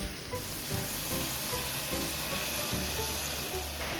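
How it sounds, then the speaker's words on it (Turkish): Spinach and carrots sauté in a pot for spinach soup, giving a steady close sizzle and hiss with occasional stirring scrapes underneath. "ıspanaklarımız da yumuşayıp kendinden geçene kadar kavurmaya devam ediyoruz"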